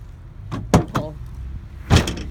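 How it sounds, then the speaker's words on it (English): Tailgate of a 2018 Ford F-150 XLT pickup unlatched and lowered by its handle outdoors, a metallic clack and rattle followed a moment later by a heavier thunk as it settles open. "When you're ready to open up that tailgate,"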